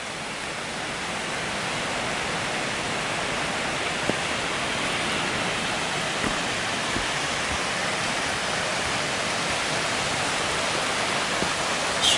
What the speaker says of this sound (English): Sheldon Reynolds waterfall